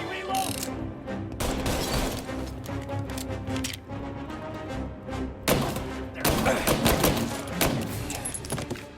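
Rapid gunfire in a 1930s-style gangster shootout in the game Mafia: Definitive Edition, sustained clattering shots with mechanical clicks and reloading sounds throughout, louder bursts toward the end.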